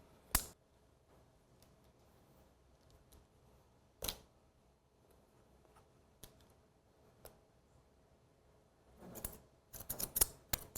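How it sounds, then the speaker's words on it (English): Scissors point-cut hair in a salon, giving sparse, faint, crisp snips spread across a quiet stretch and then a quick cluster of clicks near the end. "bringing the hair out horizontally, and you're just going to point cut as you check"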